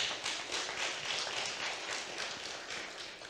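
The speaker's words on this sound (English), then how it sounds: "Somebody give the Lord a clap offering of praise." A church congregation claps together in a praise offering, a fairly faint, steady run of rhythmic handclaps heard from a distance with no talking over it.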